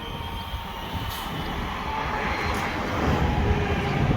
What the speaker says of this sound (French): C'est la course, il y a des trains partout.